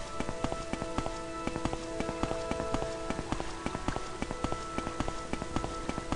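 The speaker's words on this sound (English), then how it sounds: "It would stop raining for once, which is annoying." Steady rain patters on surfaces in the game Morrowind, a dense, even downpour with sharp scattered drops and faint hoof-like clops, heard alone without talk.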